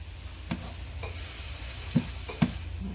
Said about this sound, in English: But let me put the olive oil in now